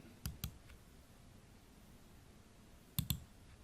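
A computer mouse clicks twice in quick pairs, sharp and close, first near the start and again after a quiet pause.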